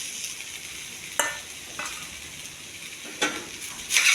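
Sliced okra and green chilies frying in a pan on the stove: a soft, steady sizzle with a few sharp scraping stirs of a spatula, close and fairly quiet.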